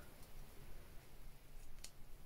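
Scissors snip the small end off a fabric label, producing a few faint, sharp clicks in a quiet room.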